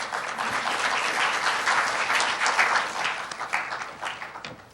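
Audience applause at an ombudsman conference session in Hong Kong, a sustained wash of many hands clapping that swells mid-way and then tapers off gradually.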